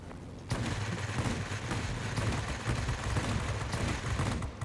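A 37 mm cannon firing from an XFL-1 fighter in World of Warplanes: after a brief quiet start, a loud, continuous stream of rapid, heavy thudding shots runs to the end.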